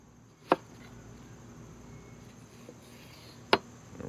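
A knife cuts through a mango in a kitchen, two distinct crisp chops about three seconds apart with a faint tap between, over quiet room hum.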